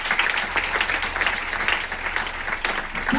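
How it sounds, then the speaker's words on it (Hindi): A crowd at a seminar gives a round of applause for a teacher, dense steady clapping close and loud throughout, with a murmur of voices mixed in. "और एक बार चलो सर के ताली होना चाहिए।"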